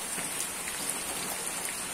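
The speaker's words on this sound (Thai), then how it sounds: "ฝนตกหนักด้วยครับเนี่ย" Heavy rain pours down outdoors in a steady, dense hiss of drops drumming on surfaces, with a mother hen and her chicks sheltering in the wet, and no voices over it.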